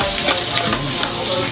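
Garlic and ginger being sautéed for chicken tinola, a steady close sizzle of frying with stirring scrapes running through the whole stretch, loud and unbroken.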